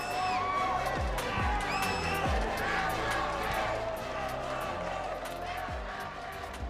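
Arena crowd at the MLBB MSC 2024 esports grand finals, a dense, steady wash of cheering and shouting that fills the hall, with distant voices mixed in.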